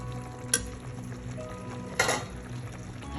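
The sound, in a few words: stirring creamy chicken gravy cooking in pan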